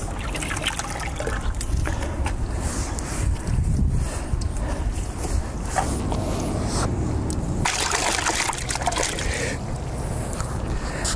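Dirty solar panels on a Winnebago View RV are washed with water, giving a continuous close hiss of spraying and trickling water with uneven surges and some wind buffeting.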